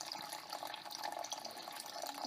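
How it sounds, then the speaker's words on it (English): Gold refining solution pours into a coffee filter and drains through with a faint, steady trickling splash. "So I just pour my solution into the filter, let it drain through"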